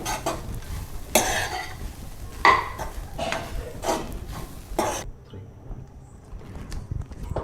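Wet coconut filling for ukadiche modak is sautéed in a pan, with a metal spoon scraping and clinking against the pan in irregular strokes under a soft sizzle, close by and fading to near quiet at the end.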